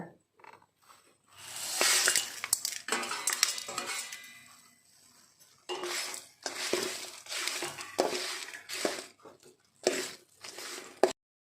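Urad dal frying in a pan while a utensil scrapes and clinks against the metal, with bursts of stirring separated by short pauses, close and fairly clear.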